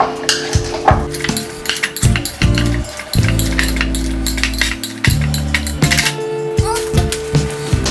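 Seasoned ingredients for a homemade Chipotle-style dish are mashed in a bowl, producing rhythmic clinks, taps and scraping knocks of a utensil against the dish, close and fairly loud, with a steady tone underneath and no talking.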